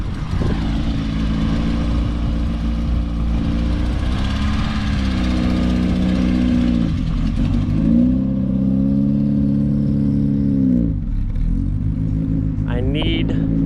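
A Volkswagen VR6 engine with an aggressive camshaft rumbles close by in a loping, uneven idle with occasional light revs, while people talk over it throughout.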